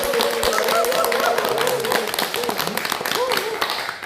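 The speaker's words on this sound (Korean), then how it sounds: "박수요." A crowd claps steadily together, dense applause sustained throughout with voices mixed in.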